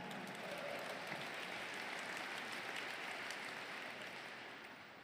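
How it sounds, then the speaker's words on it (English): A large audience applauds steadily at a Hall of Fame induction speech, a soft, distant, even roar of clapping that holds for several seconds and gently fades. "How about a round of applause for all the Clarence?"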